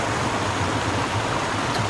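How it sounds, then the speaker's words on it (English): Shallow class 1 whitewater river rapids on Michigan's Upper Peninsula, a loud, steady broadband rush of flowing water close by with no talking. "it was fun finding a little bit of whitewater"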